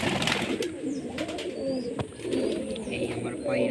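Pet pigeons in a breeding loft give soft, low repeated coos and a few chirps, close by, under steady background noise with a voice talking over them at times.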